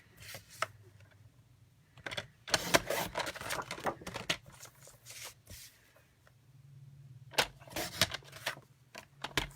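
Cardstock trimmed on a paper trimmer, quiet scraping and cutting strokes in short bursts with soft clicks and paper handling sounds, close and faint.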